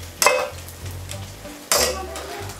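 Food fries in hot oil for a Ramadan snack business, a steady bubbling sizzle with two sharper bursts of crackle as pieces are stirred or added.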